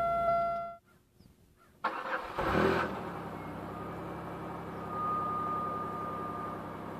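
A 2000 Pontiac Grand Am GT starts from cold: a brief starter crank, the engine catching with a rising flare, then settling into a steady, quiet idle that lifts slightly near the end.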